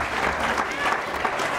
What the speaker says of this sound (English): A round of applause for Mark.